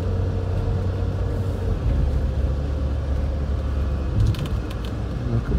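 A Mercedes W124 running with its air conditioning on, a steady low engine rumble close by that holds even throughout, with a few faint higher clicks near the end.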